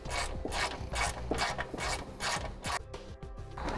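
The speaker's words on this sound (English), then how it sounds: "Now we'll go ahead and remove the ground stud." Ratchet wrench clicking steadily as a ground stud is loosened on a 2008 vehicle during trailer brake controller wiring, close and fairly loud in repeated bursts with brief pauses.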